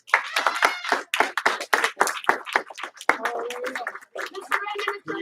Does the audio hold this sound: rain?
no